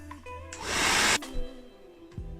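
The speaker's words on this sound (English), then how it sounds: "Using the hairdryer, I have it on the coldest heat" A hair dryer on its cold setting whooshes on for about half a second of steady airflow, then cuts off, leaving quiet handling sounds.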